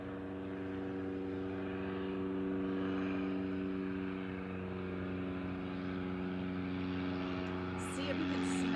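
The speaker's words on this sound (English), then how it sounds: "Here comes another plane, coming right over my head." A propeller airplane passes low overhead at an outdoor chair yoga session at Hilton Head Island, a steady droning engine hum with strong tones that holds throughout and swells slightly toward the end.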